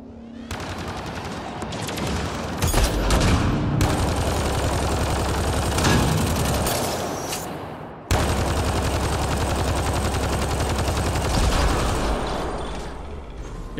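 Sustained turret gunfire in Mass Effect Andromeda, rapid automatic bursts that run loud and steady for long stretches, briefly cut off and then resuming, with no talking.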